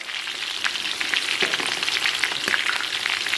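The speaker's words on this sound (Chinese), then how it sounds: "咱们小火把肉煸炒差不多啊" Pork ribs stir-fried over low heat in an iron wok, a steady close sizzle and crackle of fat with faint spatula scrapes and no voices.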